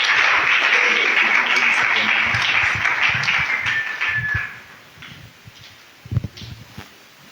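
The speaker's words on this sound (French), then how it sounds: "nous allons l'accueillir avec les acclamations pour la gloire de Dieu" A church congregation gives sustained applause and cheering to welcome a speaker. Loud dense clapping fills the first four seconds, then fades to scattered claps and rustling.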